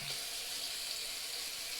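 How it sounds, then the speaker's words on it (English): A bathroom sink tap runs steadily while a Merkur 37C safety razor is rinsed, a close, even hiss of flowing water with no talk. "I'm going to rinse this off for a second."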